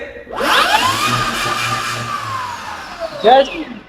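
An Ultraviolette X47 electric motorcycle speeds up from a standstill with a rising whine that climbs in pitch and then fades, followed by a brief louder burst near the end.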